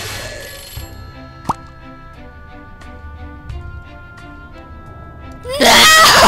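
A cell phone in the video game Scribblenauts Unlimited rings with a repeating electronic tone, moderately loud, before a sudden burst of loud noise at the end.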